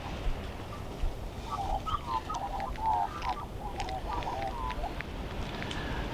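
Bush turkeys make a run of short, clucking, honking calls clustered in the middle of the stretch, moderately close over a busy outdoor background.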